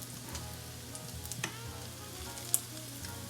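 A small patty fries in oil in a pan, a soft steady sizzle close by, broken by a few crackles and pops, no talk.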